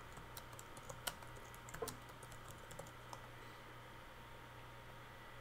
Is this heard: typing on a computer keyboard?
yes